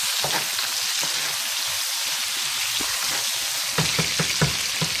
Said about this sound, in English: So I sauteed my onions, my peppers around